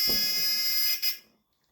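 A homemade buzzer soldered onto a veroboard buzzboard project gives a loud, shrill, steady tone for about a second, then cuts off into silence.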